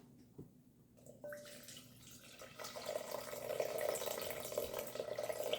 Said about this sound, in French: On rajoute environ 350 grammes d'eau chaude tiède filtrée.